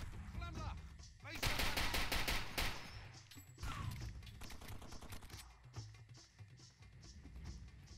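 Automatic gunfire in Far Cry 2 rattles out in loud, rapid bursts, with one dense volley early and a shorter spray a few seconds later, separated by quieter game sound and faint voice.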